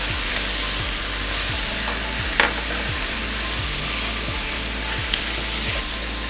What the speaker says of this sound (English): Now we're gonna make some space and add in our garlic and our